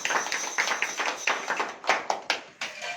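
Church congregation clapping hands in thanks, a run of sharp, uneven claps at moderate volume, some close and crisp, with no talking over them.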